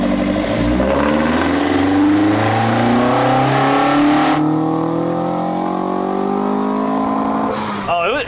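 On a dyno, a car engine revs hard in one long, loud climb, its pitch rising steadily for several seconds before cutting off abruptly near the end.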